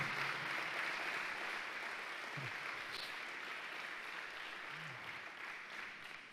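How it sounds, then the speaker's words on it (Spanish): A church congregation claps steadily during a Sunday evening service, a continuous wash of applause that slowly fades a little toward the end. "Denle un fuerte pero fuerte aplauso a Jesús."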